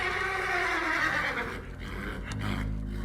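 An overexcited horse stamping its hooves beneath a cypress tree, with a loud, sustained whinny that drops off, then low thuds of hoofbeats and noise, heard without any talk.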